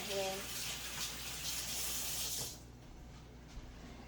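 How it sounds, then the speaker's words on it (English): Running tap water rinses egg off a hand while cooking walnut-crusted pollock, a close steady splashing gush for about two and a half seconds that then cuts off to quiet room sound. "I'm going to wash the egg off"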